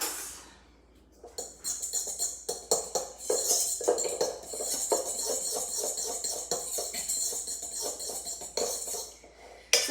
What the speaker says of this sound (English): I'm going to mix this together with a fork just to kind of incorporate all my dry ingredients